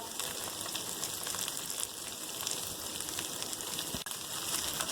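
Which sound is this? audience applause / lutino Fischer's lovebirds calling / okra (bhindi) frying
okra (bhindi) frying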